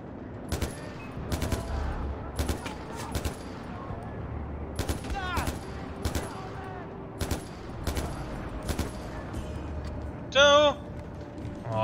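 Sharp gunshots in the video game Far Cry, fired singly and in quick pairs across the stretch, loud and close, with someone talking over them and a brief higher electronic burst near the end.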